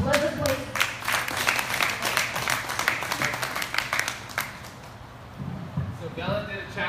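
A fitness group claps in warm applause that rises and tapers over several seconds and fades to quiet near the end, with a voice speaking over it.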